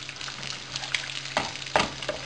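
Potatoes and eggs stirred in a frying pan, a soft continuous sizzle with a few sharper scraping strokes of the utensil against the pan.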